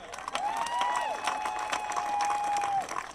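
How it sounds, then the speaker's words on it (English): An audience at a community service for George Floyd in Hartford applauds, a steady wash of clapping with cheering and a sustained shout over it. "I think everybody needs to clap a little harder for that."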